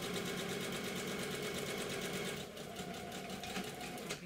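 A sewing machine stitches a French seam in fabric with a fast, steady mechanical whir, close up, easing slightly toward the end with no talking.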